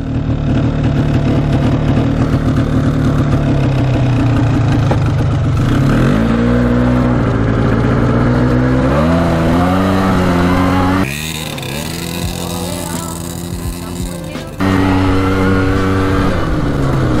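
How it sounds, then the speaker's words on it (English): A 1996 Explorer 400 liquid-cooled 4x4 ATV engine starts and runs, rising into loud, close revs with pitch sweeping up and down, then dropping briefly before it picks up again. "1996 Explorer 400 liquid cooled 4x4. Should run and drive great. Let's see here. Start her up."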